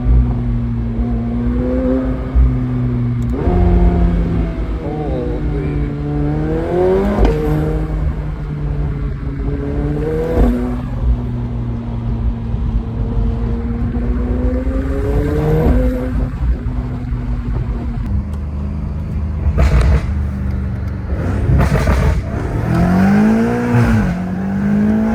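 A straight-piped McLaren 720S blips its engine through paddle-shift downshifts, loud rising and falling revs in quick bursts with raspy exhaust crackle, heard up close from inside the car.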